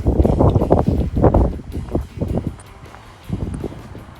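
Gusty outdoor wind buffets and roars across the microphone in uneven bursts at a spot where firewood rounds are being cut with chainsaws, loud and close, with quieter lulls between gusts and no talk.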